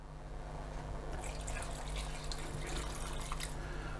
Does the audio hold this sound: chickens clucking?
no